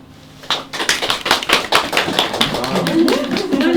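Audience applause at a book launch talk, a burst of steady clapping starting abruptly and continuing at close range, with faint talk rising near the end.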